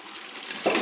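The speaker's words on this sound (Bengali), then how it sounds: "একটু জল অ্যাড করে দিচ্ছি" Water poured into a pan of simmering chicken do pyaza gravy, a short sizzling splash rising near the end after a faint bubbling background.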